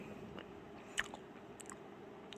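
Soft, close crunches of someone biting and chewing a vanilla-flavoured snack, with one sharp bite standing out among quieter chewing sounds in a hushed room.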